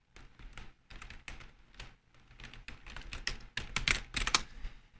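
Rapid bursts of keystrokes on a computer keyboard, close and clear, in uneven clusters with short pauses between runs of typing.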